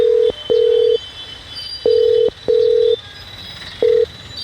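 Nokia 1100 mobile phone in an audio drama gives a call signal of clear, steady electronic tones in short and long bursts with brief gaps between them, loud and alone over a quiet background.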